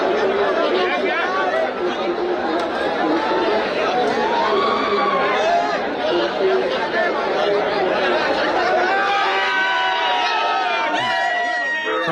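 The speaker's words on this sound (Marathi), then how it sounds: "कार्यकर्त्यांकडून जल्लोष केला जातोय." Party workers celebrate Shiv Sena candidates' victories in zilla parishad and panchayat samiti seats in Chhatrapati Sambhajinagar, throwing gulal. A dense, steady crowd roar of overlapping voices and cheering fills the whole stretch, loud and close throughout.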